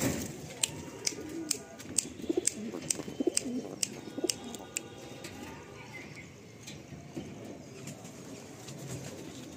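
Andhra pigeons in a large loft coo in a low, continuous murmur, with scattered sharp clicks and brief wing or perch noises over a steady flock background.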